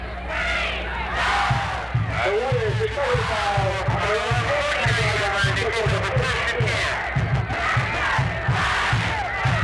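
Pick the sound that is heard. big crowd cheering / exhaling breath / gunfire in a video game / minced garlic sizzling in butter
big crowd cheering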